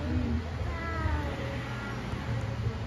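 A small kitten meows softly in a few short, high mews, fairly near, over a steady rustling outdoor background with people talking close by.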